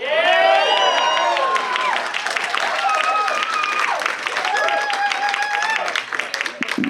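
Audience applause at a comedic talk: sustained clapping from a sizeable crowd, mixed with cheering and raised voices, steady throughout and tapering slightly at the very end.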